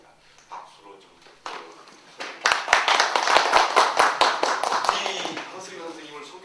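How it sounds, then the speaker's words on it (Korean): An audience at a Korean lecture breaks into clapping that starts as a few scattered claps and swells into several seconds of lively applause, following a speaker's brief remarks. "박수로 좀"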